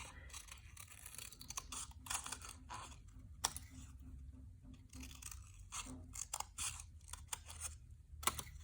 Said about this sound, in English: I'm just going to cut a wiggly line